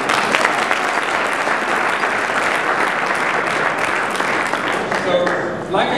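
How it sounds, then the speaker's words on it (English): Loud, sustained applause from a large audience at a town hall meeting, a dense continuous wash of clapping that holds steady for several seconds before easing slightly at the end. "How about applause?"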